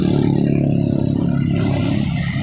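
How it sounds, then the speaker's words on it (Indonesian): A TransJakarta city bus passing on a Jakarta street, a loud steady low engine rumble that stays strong for a couple of seconds, close by and continuous. "Oh, lewat bus Trans Jakarta."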